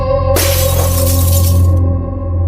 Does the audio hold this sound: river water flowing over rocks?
no